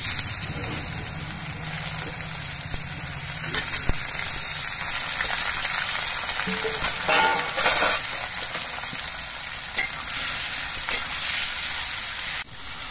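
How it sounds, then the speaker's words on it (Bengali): Carrots frying in white cooking oil in a wok, giving a steady close sizzle with occasional stirring scrapes and clicks throughout, no talking. "প্রথমে আমি গাজরগুলো ভেজে নিচ্ছি।"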